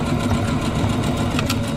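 A sewing machine stitches fabric through a 1/4 inch presser foot with a seam guide, a steady close mechanical whir that runs evenly through the whole stretch with no talking.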